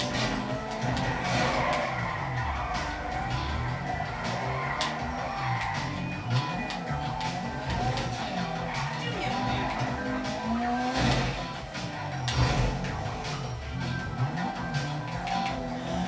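In Grand Theft Auto V, a car keeps up a sustained run of engine roar and repeated tire squeals and skids, dense and loud throughout, with a brief jolt near the end.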